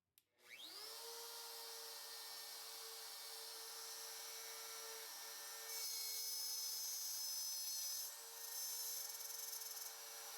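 An electric router spins up after a brief click and then whines steadily, loud and sustained, cutting a corner in wood for a router fence, its pitch and intensity rising briefly midway as it bites harder into the workpiece.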